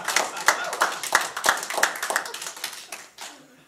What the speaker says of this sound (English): Round of applause if you like it.